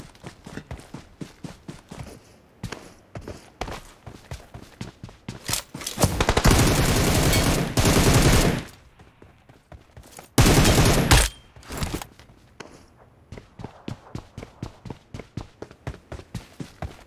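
Gunfire in a video game, with rapid rhythmic footsteps, two loud sustained bursts of automatic fire and a quieter shot afterwards, with no talking.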